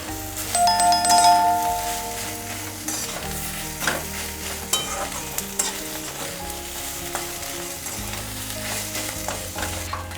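Ground cumin, coriander and red chili powder sizzle in a pan while being stirred, with steady scraping strokes and a few ringing clinks of the utensil against the metal early on.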